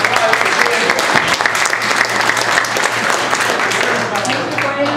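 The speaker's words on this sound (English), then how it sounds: "Give him a round of applause for being here." A town hall audience in Green Valley gives a steady, full round of applause, dense clapping that continues evenly for several seconds with a low hum underneath.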